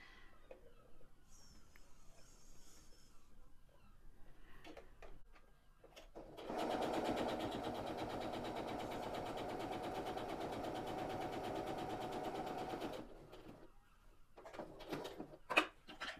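A sewing machine chain stitches diagonally cut fabric scraps in one steady, continuous run of about six seconds, preceded and followed by quieter handling sounds of cloth and the machine.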